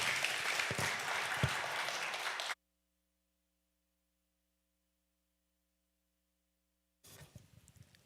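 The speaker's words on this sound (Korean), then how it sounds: "우리 목사님 나오실 때 한번 우레와 같은 박수로 맞이하겠습니다" A church congregation at a Korean Presbyterian Sunday service gives loud, dense applause to welcome the pastor, cutting off abruptly into silence, then a shorter, thinner burst of clapping returns near the end.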